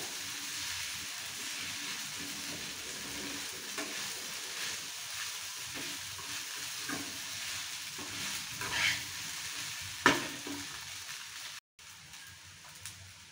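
Sabudana khichdi stirred in a pan over a low gas flame: a soft, continuous sizzle with scattered scraping stir strokes and one sharper clink near the end, quiet and close.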